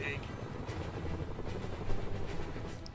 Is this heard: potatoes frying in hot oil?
no